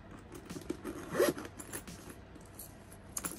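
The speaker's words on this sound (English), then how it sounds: "And they got this zipper." Zipper on a small pink Michael Kors signature cosmetic pouch, sold as a pencil case, pulled open in one short close scraping run with a brief second rasp near the end.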